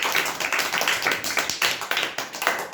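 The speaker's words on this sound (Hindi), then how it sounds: "ताली बजाओ।" A group of children clap together in a classroom, loud close rhythmic claps in quick repeated bursts with slight unevenness between hands.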